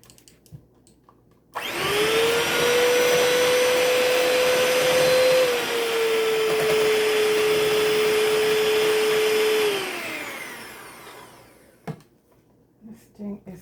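Electric mixer whisking chocolate chip cookie dough, a loud steady motor whine that starts abruptly, holds for about eight seconds with a slight pitch drop midway, then winds down, followed by faint handling noises.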